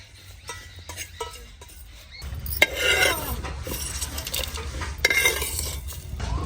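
Cinnamon sticks, dry red chillies, cardamom and cumin are dry-roasted in a hot wok over a clay village stove, with scraping and rattling stirs and a light crackle, the stirring quiet at first and then louder.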